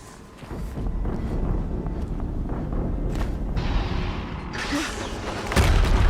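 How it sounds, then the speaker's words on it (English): Explosion in the video game Horizon Zero Dawn: deep booms and rumbling blasts roll through a windy, noisy battle scene, a heavier hit landing near the end. "Another explosion."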